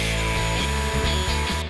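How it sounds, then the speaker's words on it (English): A shop vacuum cleaner runs steadily with its nozzle held just under a cracked piece of wood, drawing glue down into the crack; a continuous loud motor whine with strong low hum and steady airflow hiss, heard alone without talk. "Now while I hover just above the vacuum cleaner nozzle, while it's turned on"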